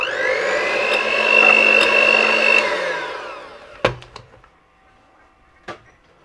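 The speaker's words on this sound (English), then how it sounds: "I've found that you get a far better and softer texture if you beat it with a whisk" A whisk beats muffin batter in a narrowboat kitchen, a loud continuous whirring drone that winds down and fades, followed by a few sharp knocks and clunks.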